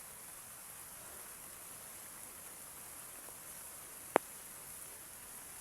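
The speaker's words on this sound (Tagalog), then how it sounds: "ulan na malakas" Steady, dense hiss of heavy rain pouring down, constant and broadband, with a single sharp tap partway through.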